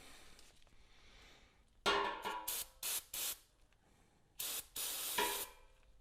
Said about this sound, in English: Push some fresh grease through.